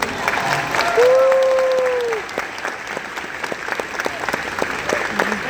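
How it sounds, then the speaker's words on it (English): An audience at a voice actors panel at a convention gives loud, sustained applause, with cheering voices and a whistle in the crowd. "Another round of applause for these guys."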